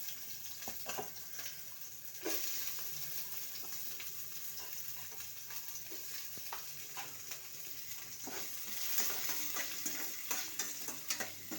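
Cumin seeds frying in oil with cloves in a pan for a quick rice dish: a steady close crackling sizzle with scattered sharp pops and clicks of stirring, swelling louder about two seconds in.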